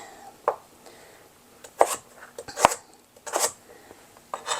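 A knife chops through a firm root vegetable on a cutting board while preparing beef stew, with five or six crisp, separate thuds at an uneven pace, close and clear.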